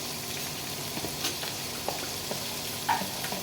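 Potatoes and raw chickpeas fry in a pan, giving a steady, moderate sizzle with occasional soft pops and stirring clatters, with no voices.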